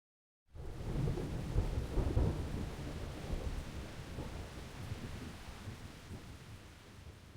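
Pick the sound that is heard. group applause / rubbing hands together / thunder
thunder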